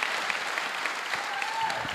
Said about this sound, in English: applause for Stephen and Tony